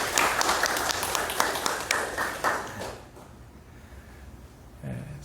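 A church congregation applauds in dense, sustained clapping for a few seconds, then the sound fades to quiet room tone.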